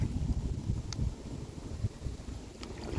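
Steady wind rumbling across the microphone while out on an inflatable kayak, a low buffeting roar with faint lapping water underneath.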